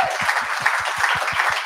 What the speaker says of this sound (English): So huge round of applause for Ollie.